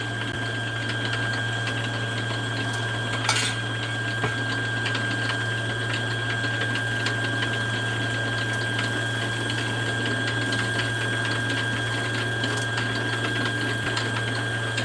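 A sewing machine winds bobbin thread with a continuous, even motor whir and a steady hum, running unbroken and close for the whole stretch with one brief rattle early on.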